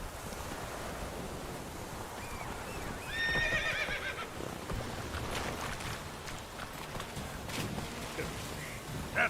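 Roach, the horse in The Witcher 3, gives one brief whinny over a faint bed of wind, surf-like ambience and hoof clip-clop in the game world.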